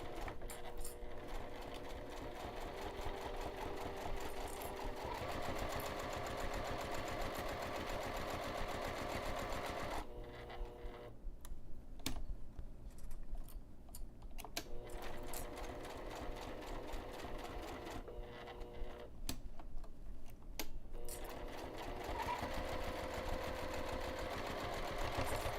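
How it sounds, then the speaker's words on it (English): A sewing machine stitches through fabric while making a bag, a close, rapid mechanical whir that runs steadily, drops away in two short pauses, then resumes. "and then continue sewing."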